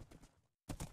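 Hooves of a horse clip-clopping in Minecraft, a quick run of soft steps that stops for a brief silence and then returns as a louder burst of steps.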